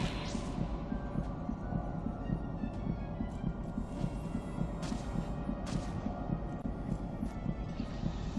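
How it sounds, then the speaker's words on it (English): A steady, low, throbbing heartbeat runs through the whole stretch in the video game Sinner: Sacrifice for Redemption during a boss fight. The rhythmic pulses keep an even pace beneath quieter game sounds. "apologies for the heartbeat there"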